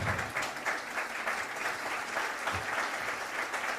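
A seminar audience applauds steadily, many hands clapping in a sustained, even crowd roar that holds for several seconds without easing.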